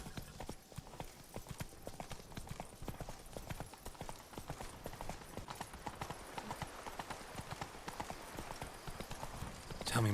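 Roach the horse trotting in The Witcher 3 video game, a steady, quick clip-clop of hooves throughout, fairly quiet, with faint game ambience underneath.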